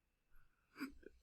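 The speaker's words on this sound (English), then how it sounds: "Oh, I had a burp, man." A single short, close burp after drinking lemonade, quiet and on its own, with a second smaller bump just after.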